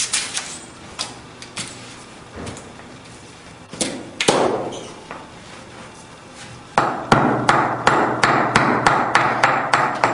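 The razor end of a slag hammer beats finishing material against a wooden surface, sharp close strikes landing irregularly at first, then in a faster, steady run of heavy thuds.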